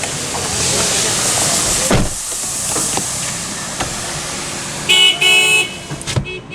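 Panels on a 2017 Maruti Suzuki DZire VXi are shut with a couple of solid, dull thuds in an outdoor setting. Background hiss, passing traffic and a short horn toot sound near the end.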